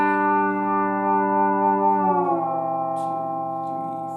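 A sustained guitar chord rings out as a soft, even pad, then shifts to a new two-note voicing that lingers and slowly fades, played close with no talking.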